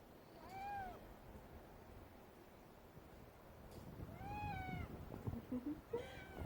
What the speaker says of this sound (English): My cat's come to join me.